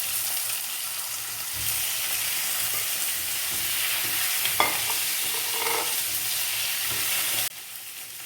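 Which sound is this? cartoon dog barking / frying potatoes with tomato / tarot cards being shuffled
frying potatoes with tomato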